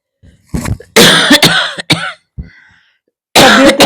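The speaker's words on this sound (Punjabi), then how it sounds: "ਤੁਹਾਨੂੰ ਵੀ ਕਿੰਨੀ ਖਾਂਸੀ ਆਉਂਦੀ ਵੀ ਹੈ" Several harsh, close coughs come in quick bursts with brief pauses between, followed by one more loud coughing fit.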